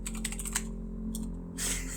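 Rapid clicking of computer keys being typed in short bursts with a brief pause between, close and fairly quiet over a steady low electrical hum.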